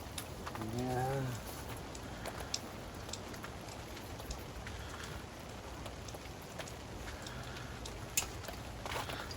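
Steady rain falls over a rainy campsite at Sandbanks Provincial Park, an even hiss of drops on surfaces throughout, with a voice briefly heard near the start.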